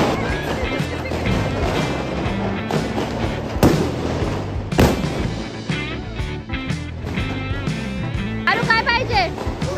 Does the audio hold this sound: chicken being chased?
no